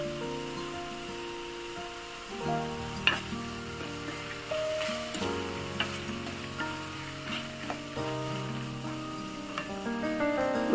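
Okra sizzles in a pan as tamarind is added for okra chutney, a soft steady frying crackle with stirring scrapes and small clinks over a musical background.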